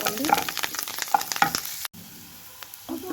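Spices for tempering crackle and sizzle in hot oil in a pan while being stirred, busy popping and frying noise that drops to a quieter steady sizzle partway through, with no talk.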